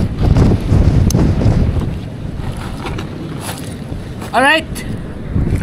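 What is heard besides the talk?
strong wind at a fishing spot by boat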